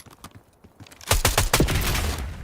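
Video game firefight: after a quieter opening second, loud, dense bursts of rapid gunfire crackle almost continuously, with overlapping shots like a machine-gun fusillade.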